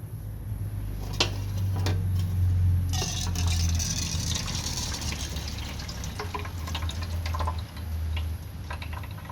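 Water pours and drains steadily through a strainer as soaked vegetable seeds are separated out, a continuous close splashing trickle with brief louder gushes and no talking.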